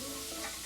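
Garlic sizzles and froths in a hot pan, a close, steady frying hiss with a faint stirring scrape and no voices.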